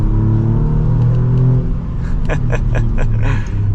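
A 2024 Alfa Romeo Giulia Quadrifoglio engine revs hard with a deep rumbling growl, then rapid sharp pops and crackles as it accelerates, loud and close.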